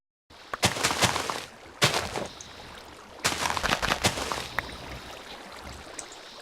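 A couple of sharp, crackling blasts burst out with splashy debris, each followed by a rumbling, hissing wash; TNT exploding in water in Minecraft, heard alone, fairly loud.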